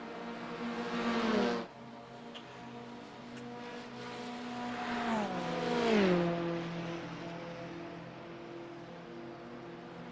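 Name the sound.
McLaren race cars racing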